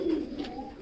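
Yellow house pigeons cooing at a bird farm, a soft low murmuring coo close by that fills the brief moment without any talk.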